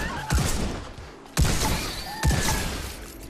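Shotgun-style weapon fired in the VR robot shooter Robo Recall, three sharp, heavy blasts spaced about a second apart, each trailing into a brief rumbling decay.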